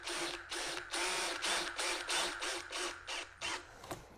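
A drill in drive mode with torque set low runs screws into a soft MDF shaker cabinet door, giving a series of short, close whirring bursts with brief pauses between them, each pulse revving and stopping.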